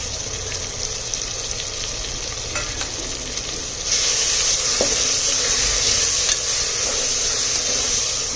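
Dry spices are stirred into masala khichdi in a hot pan, a continuous close sizzle with scraping stir strokes that grows louder partway through, with occasional clinks and no talking.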